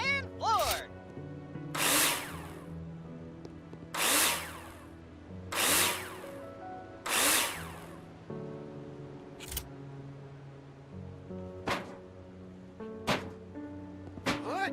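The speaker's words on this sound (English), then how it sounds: "screw them in with a drill" A cordless drill driving screws into metal profiles in the Builder Simulator video game, four or five short whirring bursts spaced a couple of seconds apart, with clicks and a few brief taps between them over steady background music.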